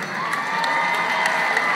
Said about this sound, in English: Give a round of applause to our winner from the Ford store.